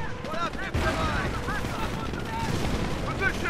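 Dense Company of Heroes battle in the co-op Allied Operation Stonewall mission: continuous overlapping gunfire, machine-gun bursts and explosions as a manor comes under attack with mortar teams firing. Voices are faintly mixed into the loud, unbroken din.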